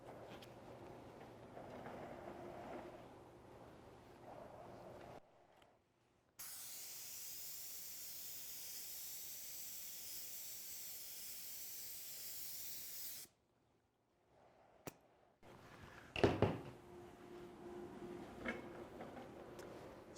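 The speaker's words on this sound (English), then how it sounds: "I'm going to move the unit, spray our third and final coat" A spray gun lays on a final coat of primer, a loud, steady hiss running for about seven seconds between quieter stretches of workshop background, with a brief clatter afterward.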